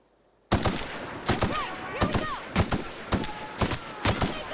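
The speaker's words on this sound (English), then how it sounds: "Burst fire." Burst-fire gunshots in the video game The Outer Worlds, about seven loud, sharp bursts spaced roughly half a second apart with brief gaps between, no talk over them.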